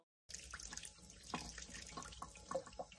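Water running from a tap into a sink, starting abruptly after a brief silence and continuing as a close, splashing stream with small irregular spatters and drips.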